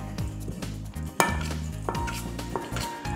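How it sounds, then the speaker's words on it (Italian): A utensil stirs a stuffing of bread and parsley in a bowl, giving repeated knocks, scrapes and clinks. One sharp clack stands out near the middle, over a low steady hum. "Gli diamo una bella mescolatina."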